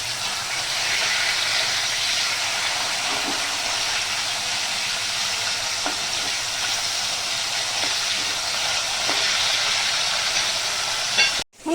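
Katla fish fries in a pan with a steady, bright sizzling hiss that runs unbroken and close, with faint crackles within it, before stopping abruptly at the end.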